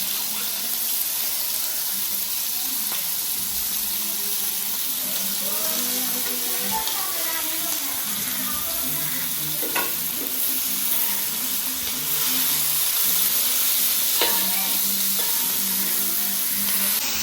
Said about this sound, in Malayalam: വെളിച്ചെണ്ണ ചൂടായതിനു ശേഷം നമ്മുടെ അരിഞ്ഞു വെച്ചിരിക്കുന്ന സവാള അതിലേക്ക് ചേർത്ത് കൊടുക്കുക.